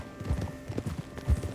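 Horse hooves clop in Red Dead Redemption 2, a quick run of close, moderately loud hoof strikes with an uneven rhythm and a heavier thud near the end.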